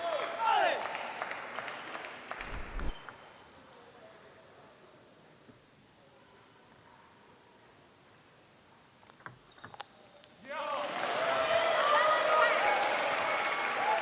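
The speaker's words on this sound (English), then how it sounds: "Crowd trying to will Cole back into this game" A crowd at a Major League Table Tennis match in Seattle applauds and cheers, loud at the start, fading to a quiet hall in the middle, then swelling again into sustained clapping at the end.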